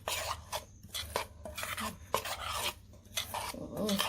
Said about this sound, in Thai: ก็คนเข้ากันนะคะ